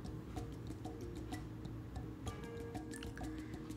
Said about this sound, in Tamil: இதை அப்படியே நல்லா ஸ்ட்ரைன் பண்ணி எடுத்துக்கலாம்